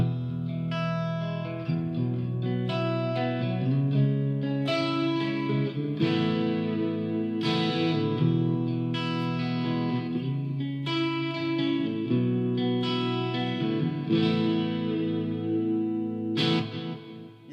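Clean electric guitar chords ring out one after another, shimmery and sustained with a chorus-like sparkle, played alone at a steady, unhurried pace.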